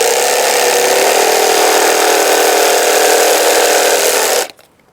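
A jigsaw cuts through fiber cement siding with a loud, steady buzzing rasp that runs unbroken for several seconds, then stops abruptly and leaves near silence.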